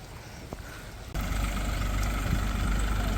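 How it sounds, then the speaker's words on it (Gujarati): A tractor engine on a farm during the rainy season rumbles low in the background, then jumps abruptly louder and holds a steady, heavy idle-like drone. "ટ્રેક્ટર આવે."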